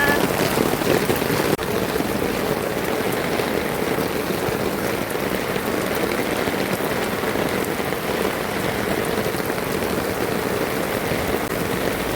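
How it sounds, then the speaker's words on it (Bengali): Heavy rain pours steadily outdoors, a dense, continuous hiss of drops drumming on surfaces, loud and unbroken throughout with no talk over it. "দেখো কি জুড়ে বৃষ্টি এসেছে"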